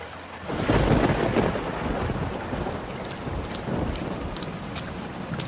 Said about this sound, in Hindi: उधर तूफान भी बढ़ता जा रहा है।